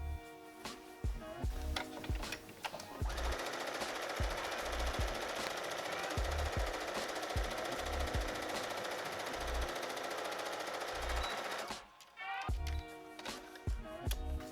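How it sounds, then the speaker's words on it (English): A sewing machine runs in one long steady burst as two stacked fabric panels cut from pants are stitched together along the sides into a mini skirt, with a few clicks and handling knocks before and after. "So I'm going to put these pieces one on top of the other and sew down both sides."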